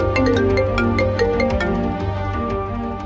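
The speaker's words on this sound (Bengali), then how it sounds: "মাম্মি তোমার ফোনে কেউ ফোন করছে।" A mobile phone ringtone plays loud and continuous, a melodic electronic tune with layered tones filling the whole moment with no talk over it.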